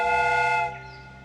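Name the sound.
steam whistle in a Sherlock Holmes video game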